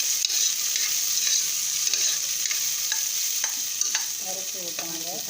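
Two medium-sized onions sautéing in a hot pan for goat leg soup, a steady bright sizzle running throughout with scraping stir strokes and a few clinks of the spatula against the pan.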